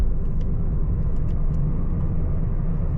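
Steady low road rumble from inside a Changan E car driving through Riyadh streets, a continuous muffled engine and tire drone with a few faint higher ticks.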